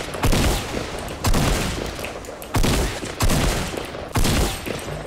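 Gunfire rings out in the battle royale video game Fortnite, five sharp, loud shots spaced about a second apart, each trailing off into a short echo, with no talk over them.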